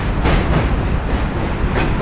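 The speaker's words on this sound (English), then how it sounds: "There's another M train going the other direction, Forest Hills." A New York City subway M train rumbles across a bridge with steady clickety-clack, loud and close, as a broad continuous roar with no voices.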